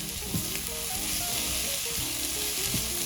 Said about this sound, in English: We're going to stir this all together.